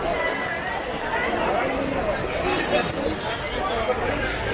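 A crowd sheltering from rain at the weekly market in Vaibhavwadi, Sindhudurg, Konkan, during pre-Ganpati shopping: a continuous, dense hubbub of many voices and bustle, fairly loud and close throughout.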